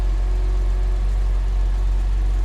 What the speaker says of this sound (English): So we're gonna hear the engine, the way it runs.